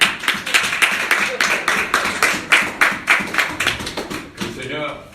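A church congregation claps in steady rhythmic unison to acclaim the Lord, sharp loud claps repeating through the whole stretch, with voices faintly underneath.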